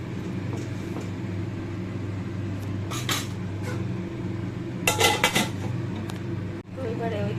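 Chicken being stirred in a pot for chicken rezala, with metallic scrapes and clinks of a utensil against the pot, including a cluster of bright knocks midway, over a steady low background hum.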